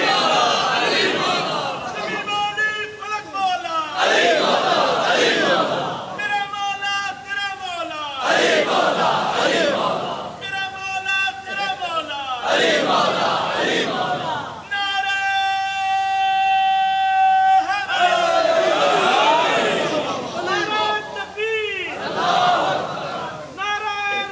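Crowd at a Shia majlis religious gathering in Kot chanting slogans, loud, rhythmic bursts of many voices answering in unison, repeated several times with short gaps between, one sustained chant standing out.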